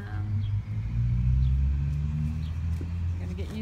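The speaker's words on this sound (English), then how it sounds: "You're gonna get used to some outside noises, cars going by." Traffic passes outside an outdoor puppy play area, a steady low rumble of cars going by, moderately near and continuous, with faint birds above it.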